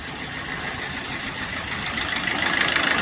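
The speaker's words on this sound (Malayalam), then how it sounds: "നമ്മൾ എഞ്ചിൻ്റെ അടുത്തോട്ട് പോയി കഴിഞ്ഞാൽ മിസ്സിംഗ് ആണ് വണ്ടി" A Maruti Suzuki Swift engine idling with a misfire on cylinder 4, a steady close mechanical rumble with an uneven, slightly rough texture that grows a little louder toward the end, no one talking.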